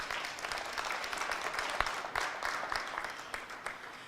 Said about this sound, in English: I feel like they need a round of applause.